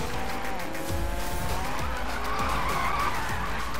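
Mazda MX-5 drifting in the Need for Speed racing game, tires squealing loudly and steadily under a droning engine with no talk.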